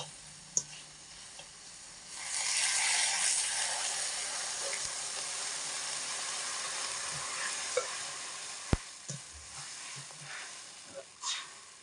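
Elephant apple (chalta) pieces frying with half a cup of sugar in oil for chutney: a steady, moderately loud sizzle rises after a quiet start and holds, broken by a few sharp clicks and taps.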